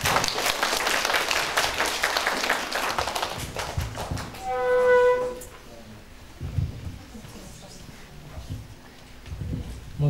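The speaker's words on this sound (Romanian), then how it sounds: "Vă rog să-l aplaudăm!" Audience applause at a Romanian award ceremony for a teacher, steady clapping for about five seconds with a brief tonal beep partway through, then scattered taps under quieter room noise.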